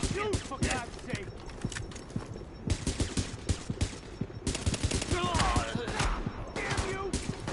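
Sidearm gunfire in the shooter game Tom Clancy's The Division, a busy stretch of sharp repeated pistol shots mixed with other bursts and clatter, loud and close, with speech mixed in.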